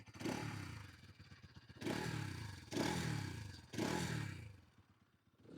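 A 2024 Bajaj Pulsar NS200 engine revs up from idle three times in close succession, each throttle blip rising sharply then falling back, heard near and loud before settling at idle.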